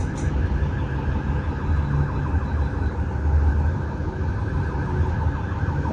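A police siren passing near a busy highway beside a railway stretch, its wailing tone steady and fairly close over constant traffic rumble for the whole stretch, with no talking.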